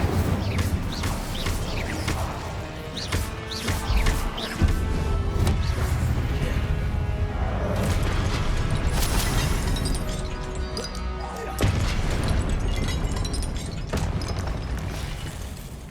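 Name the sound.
spell explosions in the video game Hogwarts Legacy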